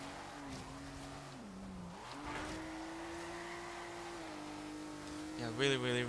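A Maserati in Forza Horizon 3 drones with a sustained engine tone that dips and climbs in pitch as it shifts and accelerates, ending in a brief sharper burst of revving and tire noise.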